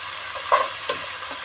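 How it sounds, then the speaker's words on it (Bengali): A paste of ground cumin, onion and garlic is stirred and sautéed in a pan, a soft frying hiss with two brief scraping strokes, close and quiet. "এখন সুন্দর করে এগুলোকে নাড়াচাড়া করে একটু কষিয়ে নেব।"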